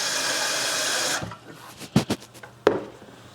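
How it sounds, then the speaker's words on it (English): Water running from a tap into a container while plant cuttings have their water changed; a steady broadband rush for about a second, then it stops, followed by a few sharp clunks and knocks. "let's change the water here as well"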